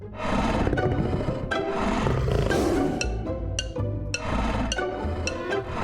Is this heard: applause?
no